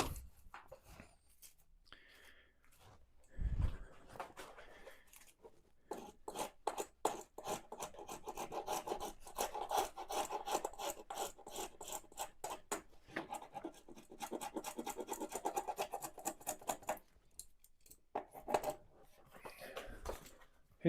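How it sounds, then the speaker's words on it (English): A rasp files down the wooden neck of a guitar during refretting and reshaping, giving repeated close, dry scraping strokes in an uneven rhythm with brief pauses between bursts. "Hit that with the rasp."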